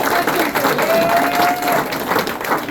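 Guests at a company's ten-year anniversary party give a brief round of applause, a steady wash of clapping with a faint whistle cutting through.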